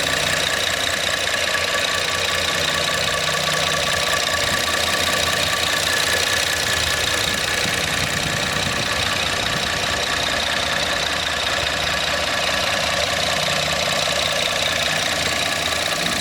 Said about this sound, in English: Let me be quiet here for a sec so you can hear the engine. You shouldn't hear anything else but the injectors firing.